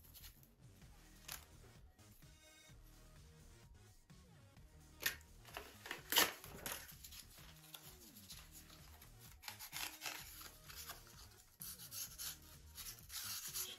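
Light sanding on the flaps of a Top Flite .60 size P-40E Warhawk model: faint, close rubbing strokes, irregular and soft, with a few sharper scrapes among them.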